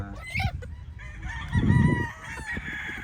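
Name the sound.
chickens clucking and rooster crowing on farm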